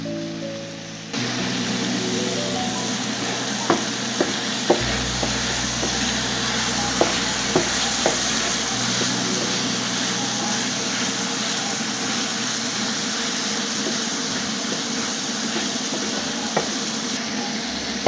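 Beef liver with beef masala, paprika and soy sauce fries in a pan and is stirred, giving a steady sizzle with occasional scraping clicks from the spoon throughout.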